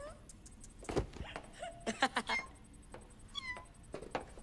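A cat meows a few times amid a noisy outdoor village scene, with people talking and laughing over it and the calls rising and falling at moderate loudness.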